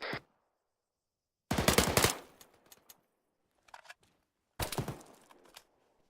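Rapid automatic gunfire in a military video game operation comes in two loud, dense bursts, with scattered single shots and thuds between them and near-silence in the gaps.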